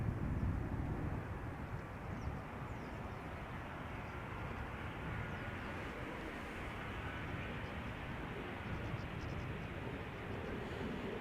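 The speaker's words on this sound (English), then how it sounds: "The number 2 is EasyJet arriving from Palma de Mallorca. That's an A320neo." An EasyJet Airbus A320neo arrives at Amsterdam Schiphol's Polderbaan runway as a faint, far-off, even jet roar, slightly louder at first and then holding steady.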